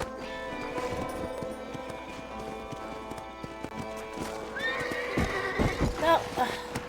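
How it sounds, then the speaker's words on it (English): Horse neighs and whinnies with clip-clopping hooves in the Red Dead Redemption video game, set over a steady bed of game music and ambience, with the whinnies loudest near the end. "Oh, horse."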